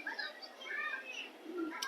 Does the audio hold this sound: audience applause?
no